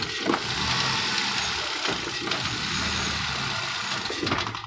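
Hyundai i20 Sportz engine running with a vibration and knocking fault, a steady mid-pitched idle hum with occasional tapping knocks, heard close and alone.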